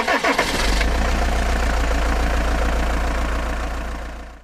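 Cold start of a 1967 Volkswagen Beetle engine at about 8 degrees: brief cranking gives way to a catch, then a steady, loud rumbling idle that fades out at the end.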